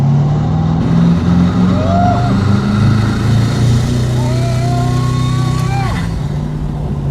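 A Koenigsegg Regera hypercar pulls away hard, its engine roaring loud and close in a rising, sustained surge with tonal whines sweeping upward, heard from the cabin as a voice briefly speaks.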